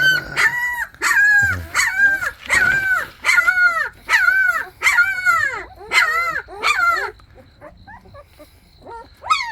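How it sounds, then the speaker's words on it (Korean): Several puppies yip and bark in a rapid, repeating series of high, squeaky cries, close by and loud, trailing off into short yelps. "귀여운 강아지들입니다"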